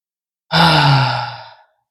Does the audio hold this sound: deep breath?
yes